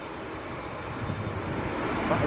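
A Virgin airliner arriving from Orlando at Manchester Airport makes a moderate, steady engine rumble at a distance, with the sound slowly building over a couple of seconds.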